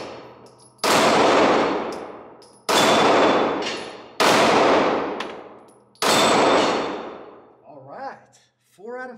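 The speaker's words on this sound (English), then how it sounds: "I'll try to hit some of these flappy pedals, see if I can do it with this gun." Four sharp Springfield Hellcat Pro compact pistol shots ring out on a range, each followed by a decaying metallic clang from steel flapper plates, evenly spaced and loud, with a brief voice at the end.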